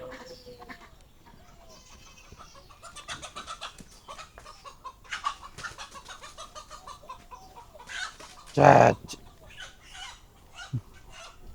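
Chickens cluck and murmur in a village yard with a soft run of scattered calls, then one louder squawking burst near the end before a last short cluck, all fairly quiet and close.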